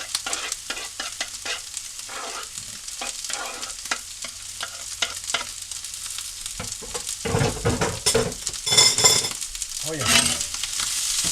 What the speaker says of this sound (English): steak is being cooked